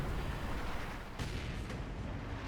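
Mortar fire in the World War II strategy game Company of Heroes 2, a dense rumbling barrage of distant booms and blasts with two sharper bursts cutting through the continuous battlefield din.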